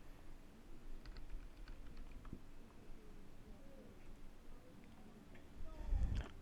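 Someone types on a computer keyboard to open a Linux Ubuntu terminal, producing faint, quiet clicks in a quiet room, with a louder thump near the end.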